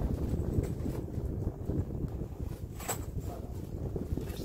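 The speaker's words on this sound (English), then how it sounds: "It's windy, it's cold." Wind blowing across an outdoor shooting range on a cold day, a steady low rumble of gusts buffeting the microphone with no voices.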